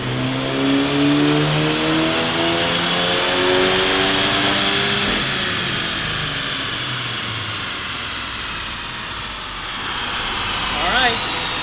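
A VW MK8 GTI's turbocharged engine screams up through the revs on a dyno, rising in pitch over several seconds before backing off, then easing down with a faint turbo whistle, loud and close.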